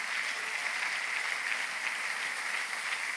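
A church congregation applauds in a steady, dense wash of clapping that holds evenly throughout, no voices standing out.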